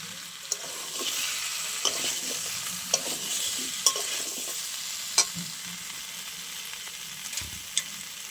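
Pumpkin frying with chickpeas in a pan as ground roasted spices are stirred in: a steady, close sizzle runs throughout, broken by occasional spatula scrapes and clicks against the pan, with no voices.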